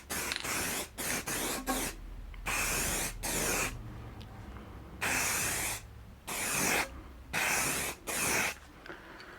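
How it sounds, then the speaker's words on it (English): Aerosol can spraying satin black paint onto bike handlebars in bursts, about nine short and long hisses separated by silences, close and fairly loud, with no talk. "I try and paint it in here with a sort of minimal of overspray."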